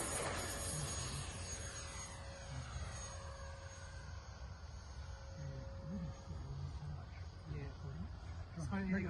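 A remote control model plane in Qantas livery takes off with a loud, constant engine whine whose pitch shifts as it moves. Voices talk briefly underneath toward the end.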